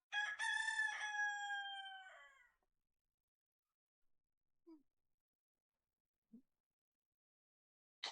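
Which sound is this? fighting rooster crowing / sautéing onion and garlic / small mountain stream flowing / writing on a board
fighting rooster crowing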